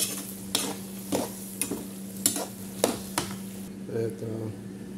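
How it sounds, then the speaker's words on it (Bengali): Red amaranth greens are stirred in a frying pan with a spatula, giving several distinct scraping strokes over a low steady sizzle and hum, with a brief clatter near the end. "একদম একটু নাড়াচাড়া করে দিলাম"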